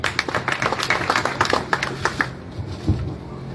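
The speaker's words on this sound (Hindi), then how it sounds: "स्वागत, अभिनंदन, तालियों के द्वारा स्वागत।" Scattered clapping from an audience welcoming a speaker at an RLP political meeting for municipal elections in Nawalgarh; a few seconds of uneven, moderately close hand claps that thin out and stop.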